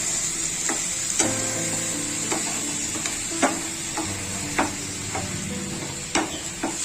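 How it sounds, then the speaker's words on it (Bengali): Spices for a chickpea dal tarka fry with a little added water in a pan, a steady sizzle under repeated scraping stirs that land as sharp, regular knocks every second or so. "এই সব কিছু মশলা খুব ভালোভাবে কষিয়ে নেব। এই পর্যায়ে আমি হালকা পরিমাণ জল দিয়ে দেবো"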